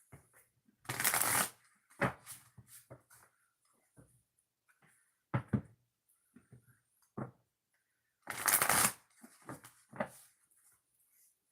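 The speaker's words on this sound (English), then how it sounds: "let's shuffle the cards" Oracle cards are shuffled in two brisk riffling bursts several seconds apart, with soft tapping and handling sounds of the deck between them, close and fairly quiet.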